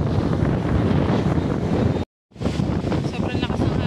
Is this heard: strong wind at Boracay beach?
yes